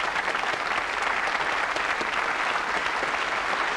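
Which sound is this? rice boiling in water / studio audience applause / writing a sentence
studio audience applause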